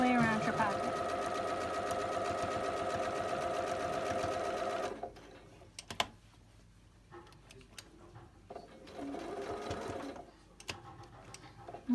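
A sewing machine stitches steadily around a welt pocket for several seconds, then stops. Quieter handling clicks follow, and a short second burst of stitching comes near the end.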